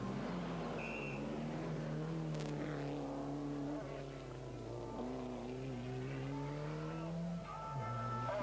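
A front-wheel-drive Opel Astra GSI rally car drives a 1993 Rally Ypres stage, its engine note rising and falling steadily through gear changes, fairly close and continuous.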